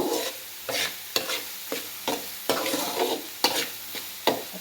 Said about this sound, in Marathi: कांदा आपण चांगला भाजून घ्यायचा आहे, जास्त पण भाजायचा नाही, लाल होईपर्यंत.